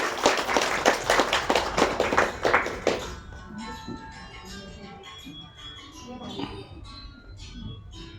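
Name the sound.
audience clapping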